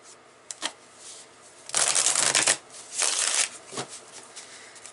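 A deck of tarot cards is shuffled by hand, with a few soft flicks followed by two longer riffling bursts and a couple of light taps, close and quiet against a calm room with no talking.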